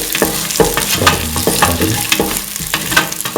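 Duck pieces with red chillies and salt sautéing in a hot pan, a steady close sizzle broken by repeated scraping stirs of a spoon against the pan, with no talk.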